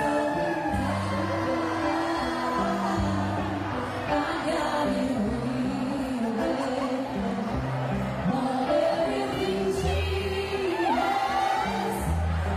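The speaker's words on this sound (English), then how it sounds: "I can sure hear the crowd singing." A crowd singing along with a live vocal performance, sustained massed voices layered over steady music for the whole stretch, with scattered whoops and cheers rising from the audience.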